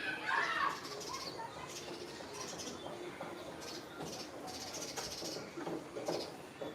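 Busy outdoor birdsong of sparrows in the rainy season, with scattered chirps and twitters, moderately loud, steady throughout with a few brighter bursts; a faint background murmur underneath.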